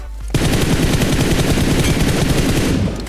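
Rapid automatic gunfire from PUBG Mobile, a loud continuous burst of closely spaced shots lasting nearly three seconds after a brief quiet start, then cutting off abruptly.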